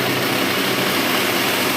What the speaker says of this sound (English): initially I am going to switch on the blower on this experiment.